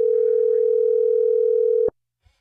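A steady, loud telephone dial tone holds for about two seconds at the start of a prank call, then cuts off abruptly, followed by a faint click.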